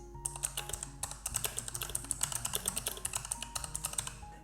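Rapid, steady typing on a computer keyboard while a new post is being written, a close stream of crisp key clicks and taps with an even rhythm and no voices.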